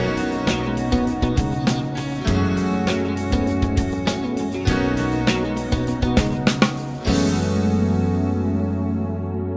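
Three guitar parts layered together, strummed chords with picked notes weaving over a steady rhythm, full but uncluttered, ending on a ringing sustained chord.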